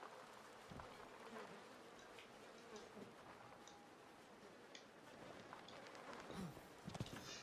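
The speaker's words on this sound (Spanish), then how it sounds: "Dentro se oyen moscas" Flies buzz faintly inside a house in the horror game Outlast 2, a constant low drone with a few louder passes over quiet background noise.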